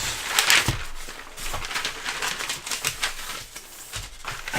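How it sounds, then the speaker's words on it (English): A roll of craft paper unrolled across a leatherworking bench makes a steady, close crinkling and rustling with uneven rattling pulses. "I use a roll of just craft paper, which I just roll out"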